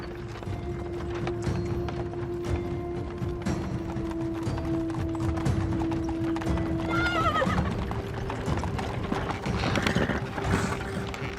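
Steady clip-clop of horse hooves with a rattling, creaking carriage, and a horse whinnying partway through; no talking.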